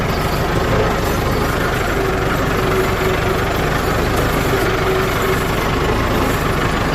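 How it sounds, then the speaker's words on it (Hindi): A tractor engine runs steadily while being ridden on the way home from a garlic field, a loud continuous low rumble with no break and no talk over it. "ट्रैक्टर के ऊपर बैठ के अब जा रहे हैं घर।"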